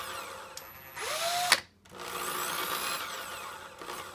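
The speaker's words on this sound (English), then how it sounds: "And now we're gonna spin it. Spin the other drill the other way." Two power drills spin brush fibers, whirring at close range in whining bursts that rise and fall in pitch, with a brief pause between runs.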